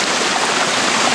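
Water rushes out from under a dam spillway in a steady, loud, broadband gush with no pauses or voices.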